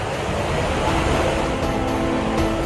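Rushing flash flood water in Guci, a dense continuous roar of churning torrent, loud and close throughout with no talk.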